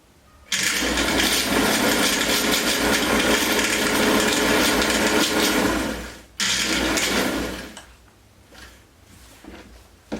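A sewing machine stitches a jumpsuit, its motor buzzing loudly in one long continuous run, then stopping briefly before a shorter burst that tapers off into quiet handling.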